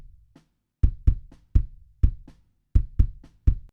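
A solo kick drum captured by the outside microphone gives a run of about ten deep, thumping beats with round low-end body and quick decay, played alone in a steady groove.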